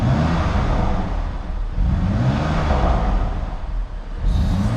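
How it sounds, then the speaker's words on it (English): A cold BMW M2 Competition engine rumbles and revs steadily to about 3000 RPM at close range, its loud, throaty drone rising and falling slightly without stopping. "as the engine is cold, don't want to rev it too hard, take up to about 3000 RPM"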